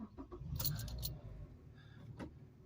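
Seatbelt being pulled across and fastened inside a manual-transmission car during a driving lesson, a few close rustles and jangling clicks followed by a sharp latch click, with quiet cabin hum underneath.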